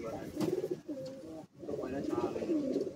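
Pigeons cooing up close at a roadside pigeon sale in Bagnan, Howrah, low rolling throaty coos repeating in two bursts, with a voice talking faintly underneath.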